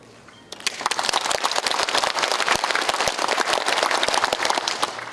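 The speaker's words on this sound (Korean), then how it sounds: "박수로 환영합니다." An audience at an ethics and morality rally hosted by a Korean association breaks into loud, dense applause that starts suddenly and holds steady throughout, a large crowd clapping close by.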